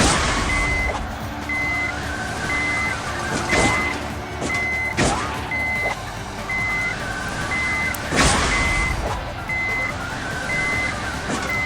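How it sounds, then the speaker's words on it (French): In the video game Hill Climb Racing 2, a short electronic warning beep repeats at a steady, quick rhythm over a rumbling engine-like drone, with occasional louder bursts of noise. "J'ai l'impression d'être à l'envers avec ce bip sonore en continu"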